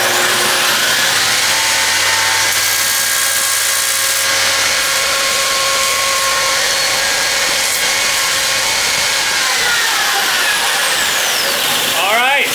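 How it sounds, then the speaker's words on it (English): A big power sander grinds tabs off a wooden cutter head guard for a Grizzly 8-inch jointer, with a loud continuous whine and rasp that holds steady for about twelve seconds before winding down. "this here is the Monster, my big sander, and what I'll do is I'll just remove those tabs"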